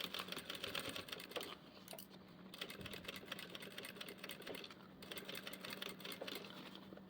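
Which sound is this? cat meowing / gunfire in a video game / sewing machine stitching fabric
sewing machine stitching fabric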